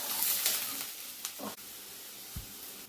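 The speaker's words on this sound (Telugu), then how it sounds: "గ్రీన్ చిల్లీ వేగుతుండగానే ఆనియన్స్ వేసుకుని కూడా గోల్డెన్ కలర్లో వచ్చే వరకు రోస్ట్ చేసుకోవాలి" Green chillies and onions frying in a pan for palak paneer, a soft, steady sizzle with a few stirring scrapes and clinks, close and fairly quiet, with no talking.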